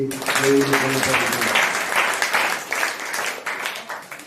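A church congregation bursts into applause at an anniversary service, sustained dense clapping from many hands filling the room, with a brief voice at the start before the crowd takes over.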